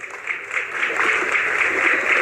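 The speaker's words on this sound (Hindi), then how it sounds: "भाई तालियों की गड़गड़ाहट कम नहीं होनी चाहिए, जोरदार तालियां बजा करके" Crowd applause at a Haryana election rally, a steady dense wash of clapping from many people that swells slightly and holds throughout.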